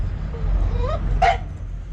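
A dog named Lou at a truck stop lets out a short yip and whimpering bark, close by and brief over a low idling background hum.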